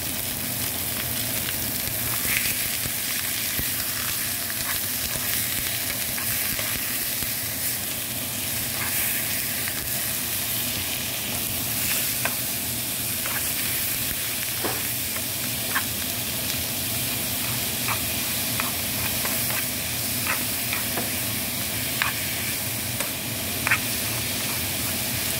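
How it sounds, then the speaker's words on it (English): Ground turkey sizzles in a hot oiled frying pan on a stovetop, a steady loud crackling hiss with scattered pops and occasional stirring scrapes continuing for about twenty-five seconds without talk. "Got a sizzling in there."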